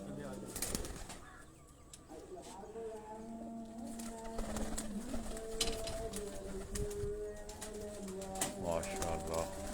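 Pigeons coo softly in a loft while people talk nearby, with occasional wing flaps and clatter mixed under the voices.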